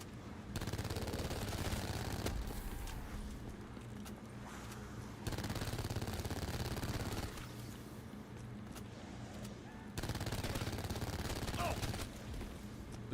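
Automatic gunfire in a Black Ops 3 Zombies game session, long sustained bursts broken by brief pauses, loud and steady with a muffled game background.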